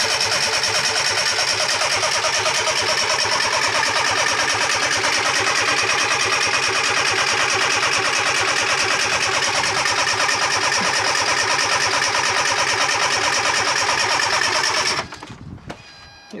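A Fiat Panda 4x4 with misfiring injectors cranks steadily and loudly for about fifteen seconds in a fast, even churning rhythm, then cuts off abruptly, with no talk over it.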